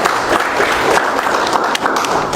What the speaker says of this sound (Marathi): आपण सर्वांनी टाळ्या वाजवून त्यांचं स्वागत करू